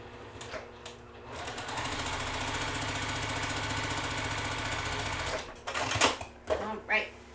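A sewing machine stitching fabric squares corner to corner, running in a fast steady chatter for about four seconds before stopping, followed by brief handling noises and a little talk.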